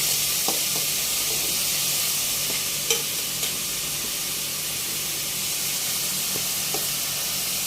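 Curry leaves and onions fry in hot oil with a steady, close sizzle and hiss, broken by occasional sharp clinks and scrapes of a spoon stirring the pan.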